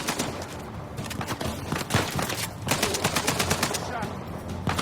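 Bursts of rapid AK rifle fire in a video game crackle in quick volleys, loud and close, with short pauses between bursts and some background game noise.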